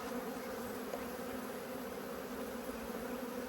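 Honeybees hum steadily around open brood frames during a full apiary inspection, a dense continuous buzz close by with no talking.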